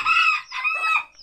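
A black Kate bantam chicken gives one short, close, fairly loud call that rises and falls in two parts, with no other sound.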